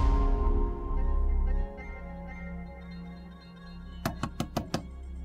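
Knocking on a door at home, a quick run of about five sharp raps near the end, close and fairly loud over low background music and room tone, with no talking during the knocks.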